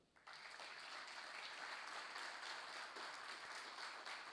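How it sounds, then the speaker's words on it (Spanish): Dense applause from a graduation ceremony audience starts abruptly and holds as a steady, loud wash of many hands clapping, with no talk over it. "extenderle a esta promoción un muy fuerte aplauso"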